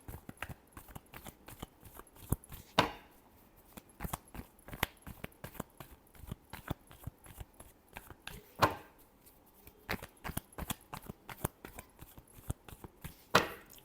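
Tarot cards are shuffled in quiet, quick bursts of papery riffling and soft snaps, repeated in uneven clusters with a few sharper slaps, close and faint with no talking.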